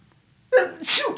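A single sharp sneeze, close up, with a quick inhaled buildup followed by a breathy burst.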